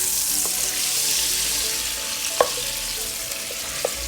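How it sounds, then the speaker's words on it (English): Continuous loud sizzle of chicken strips stir frying in hot oil, with a few sharp clinks from a utensil stirring the pan. "just stir frying to make sure that each chicken strip is cooking fully in the oil"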